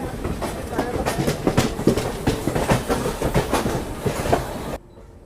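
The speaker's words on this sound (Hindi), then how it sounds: "इधर कोई तो ट्रेन आ रही है वेब 5 के साथ, पार्सल वैन है यहाँ पर" A train hauled by a WAP-5 locomotive with a parcel van rolls past near Ludhiana, Punjab, with steady rhythmic clickety-clack of wheels over rail joints, loud and close, ending abruptly.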